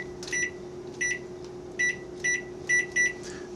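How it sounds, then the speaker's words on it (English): An oven timer beeping while biscotti bake, a series of short high electronic beeps in irregular pairs over a steady low hum, moderately quiet. "as soon as this goes off, we're going to reset the timer."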